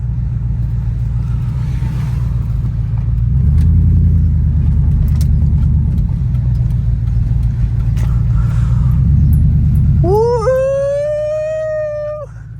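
A steady low truck engine idle rumbles throughout, swelling slightly midway, before a rising whine or howl cuts in near the end.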